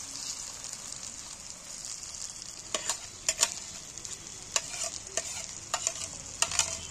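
Egg-coated eggplant frying in a wok gives a soft, steady sizzle, broken by several sharp scrapes and clacks from stirring, all close up with no voices.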